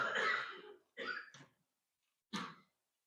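Three separate dry coughs inside a church during a Sunday sermon, triggered by air-conditioned dry air: one long harsh burst, then two shorter ones spaced apart, moderately close with silence between.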